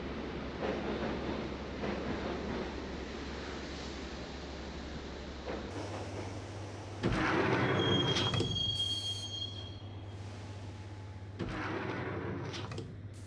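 A subway train rides the rails toward Roscoe Street Station in the video game Max Payne: a steady, close rumble with high metallic wheel squeals that flare in louder bursts, and no voices.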